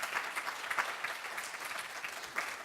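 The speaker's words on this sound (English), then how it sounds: "Let's give them a round of applause." Audience applause thanking conference speakers after a question session, a steady spatter of many clapping hands, fairly soft and distant, sustained throughout.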